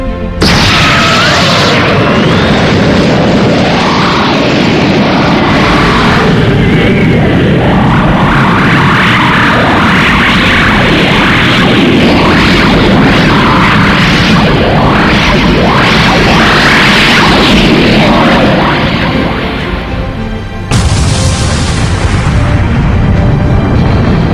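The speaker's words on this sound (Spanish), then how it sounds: "quien se vio envuelto en una explosión de luz que resonó a través del campo de batalla" A dramatic explosion sound effect from an action audio story, a loud, sustained rumbling blast with crackling bursts that fills the whole stretch, breaking off briefly near the end before resuming.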